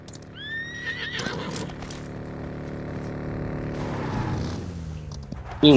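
A horse neighs and whinnies in PUBG Mobile, a shrill rising call early on followed by clip-clop hoofbeats and a steady engine-like drone, with a sharp louder burst at the end.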